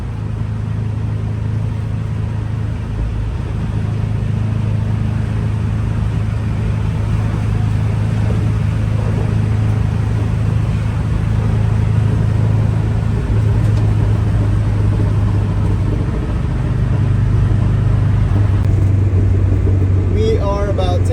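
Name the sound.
1967 VW Type 3 Squareback engine while driving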